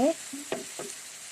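Glass noodles stir-fried in a pan with soy sauce and oyster sauce, a short hissing sizzle broken by a few quick scraping stirs of the spatula.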